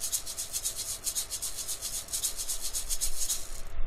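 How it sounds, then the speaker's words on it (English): Rapid maraca shaking from the Dora the Explorer: Click & Create PC game's instrument-matching sound, a steady bright rattling pulse of even shakes that runs throughout, fairly loud and alone with no talk. "Yes! It's the maracas!"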